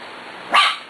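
A single sharp dog bark, close and loud, breaks a quiet background.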